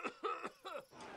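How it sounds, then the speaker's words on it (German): A person coughs in several short, harsh bursts, with a rough throat-clearing quality, close and fairly loud, then a faint hiss as it fades. "Jetzt huste doch nicht jetzt schon"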